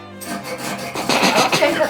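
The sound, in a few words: sawing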